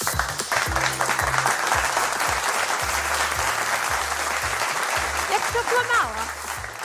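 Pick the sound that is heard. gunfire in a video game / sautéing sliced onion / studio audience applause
studio audience applause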